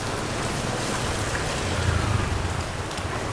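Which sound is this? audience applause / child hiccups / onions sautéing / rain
rain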